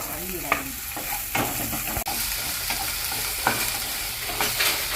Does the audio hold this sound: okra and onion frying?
yes